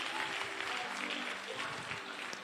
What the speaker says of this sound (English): give them a round of applause for me